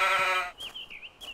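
A ram bleating in the ArmA 2 video game, one loud wavering bleat followed by fainter, thinner trailing cries, heard alone.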